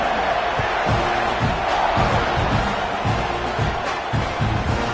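In the NCAA 26 college football video game, a stadium crowd keeps up a broad, continuous roar after a score, with dull rhythmic thumps pulsing through the buzz.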